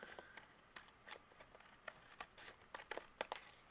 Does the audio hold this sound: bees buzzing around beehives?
no